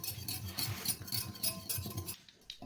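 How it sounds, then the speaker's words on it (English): A pestle grinds blue powder in a mortar for a bath soak, a gritty scraping and rubbing repeated in short strokes, close and fairly quiet, trailing off near the end. "begin to gently grind it into a powder"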